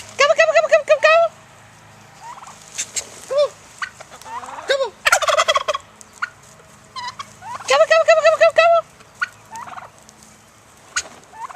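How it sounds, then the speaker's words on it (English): Several turkeys gobble in loud, rapid bursts among a small flock of chickens in a spring garden yard, with calls repeating near the start and again later, interspersed with softer clucks and bird calls. "3 turkeys and some chickens."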